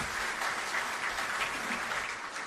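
A crowd applauds for the President of Ghana in a steady wash of clapping, moderately distant and unbroken throughout.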